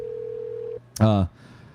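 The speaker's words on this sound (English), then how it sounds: "answer the phone" A phone call placed during a UK vs Auburn halftime show: a steady dial tone, then a short loud burst of ringback or ringing, followed by quieter background noise.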